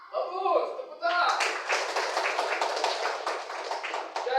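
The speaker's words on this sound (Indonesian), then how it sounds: "Bagus, tepuk tangan." Classroom applause from a group of students at a teacher's prompt, a dense run of many hands clapping for about three seconds, following a short stretch of talk at the start.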